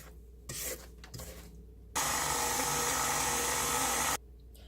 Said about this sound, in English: Scrape down the bowl again and then turn your mixer back on.